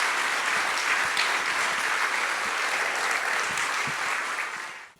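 A crowd applauds warmly, a steady wash of clapping that carries on for several seconds before fading out at the end.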